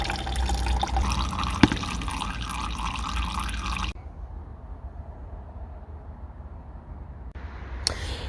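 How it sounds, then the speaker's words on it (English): Oil pours steadily out of the gearbox of a Seat Ibiza 1.9 TDI, a continuous close trickle and splash into a container with a sharp drip or knock partway through, and then a quieter, thinner flow. "now that the oil's drained out the gearbox"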